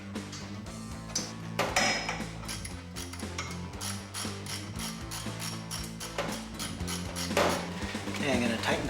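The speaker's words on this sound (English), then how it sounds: "Okay, I'm going to tighten down the clamp" Metallic clicks, ratcheting and tool taps ring out close by while a turbo clamp is tightened on a Lotus engine, in irregular bursts with faint voices around.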